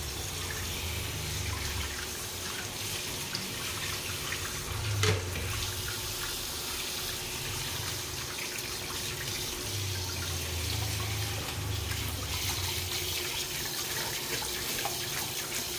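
Kitchen tap water runs steadily into a sink while dishes are rinsed clean of soap, a continuous close splashing hiss with slight changes as the flow hits the dish.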